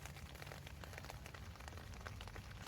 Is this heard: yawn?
no